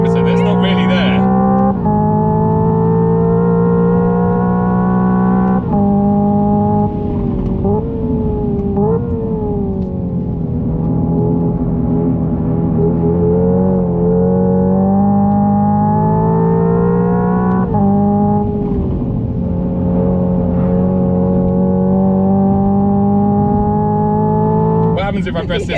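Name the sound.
Hyundai IONIQ 5 N electric car simulated gear-change engine noise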